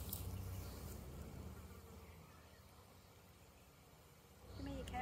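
Honey bees buzz close by on a hive frame, a continuous faint droning hum that eases off in the middle and grows louder again near the end.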